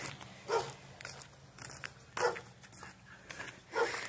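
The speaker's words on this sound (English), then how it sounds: "so there's going to be a lot of barking." Dogs bark in the distance, three separate barks spaced about 1.5 seconds apart, over soft outdoor background noise.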